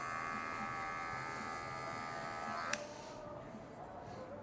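Electric hair clipper buzzing steadily at close range while cutting a mid fade with a medium guard and the lever at the middle setting, with a brief click partway through as the hum drops slightly.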